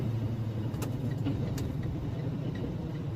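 Diesel truck with a 10-speed manual gearbox idling and given a small throttle tap while floating gears, a low steady rumble with faint clicks above it, no talking.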